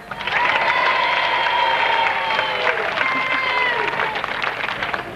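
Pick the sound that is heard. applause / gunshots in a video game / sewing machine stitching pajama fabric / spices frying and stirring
applause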